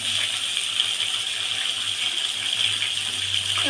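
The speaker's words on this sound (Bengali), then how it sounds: "আমি সেটাকে দিয়ে সামান্য একটু জল দিয়ে দিলাম" Water is poured into a pan of singi fish curry with lentil dumplings, making a steady close gushing splash that runs without pause.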